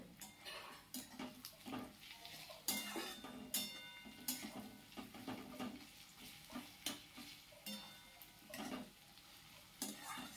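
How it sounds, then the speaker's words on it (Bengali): Onions and chicken fry in a pan for capsicum chicken, with a soft continuous sizzle broken by repeated scraping and clinking strokes of a spatula stirring against the pan. Close and fairly quiet, with no talking. "একে একে ব্রাউন কালার এখনও আসেনি, আর একটু ভাজতে হবে"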